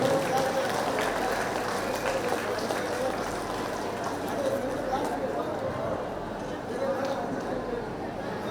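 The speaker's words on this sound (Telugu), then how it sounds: "అందరికీ ఒకసారి గట్టిగా క్లాప్స్ కొడదాం ఫ్రెండ్స్" Crowd clapping at a rally held in a function hall in Guntur, a continuous dense roar of applause mixed with crowd chatter, steady and fairly loud throughout.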